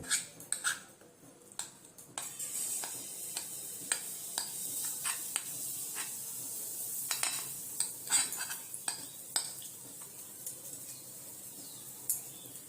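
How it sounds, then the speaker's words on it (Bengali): Dhokla mix is stirred in hot mustard oil in a pan, giving quiet scraping and clinking of a spoon against metal over a faint sizzle, with scattered irregular knocks. "তেলটা গরম হয়ে গেলে আমি এই ধোকলা মিক্সটাকে এর মধ্যে দিয়ে দেবো"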